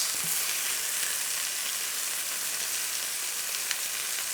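Pork and kimchi pan frying, a close, steady bright sizzle with crackling spatter throughout and no talking.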